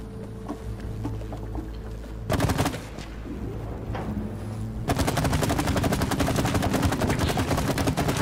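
Rapid automatic gunfire in the co-op video game It Takes Two, a sustained stream of shots that steps up to a louder, denser burst partway through, with game background sound underneath.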